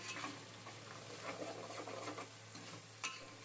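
Spice masala with a little sugar sautéed and stirred in a pan for potato biryani, a faint low sizzle with soft scraping strokes and a low steady hum beneath.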